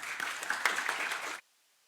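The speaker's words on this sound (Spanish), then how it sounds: "Les pido un aplauso, por favor." Audience applause at a lecture on European Union trade and transport policy, a dense wash of clapping hands that holds steady for over a second and then stops abruptly into silence.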